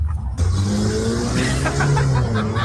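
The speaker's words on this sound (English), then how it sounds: "I don't think the NASCAR race is going to be as loud as that car was pulling away from the curb" Loud car roars as it accelerates away from a curb, its engine note climbing in a strong, close rev that fills the whole moment.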